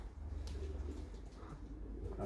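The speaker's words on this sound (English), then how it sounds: "Hello, pigeons." Low, faint pigeon cooing in the crumbling Fistral Bay Hotel, a brief continuous burbling with no talking over it.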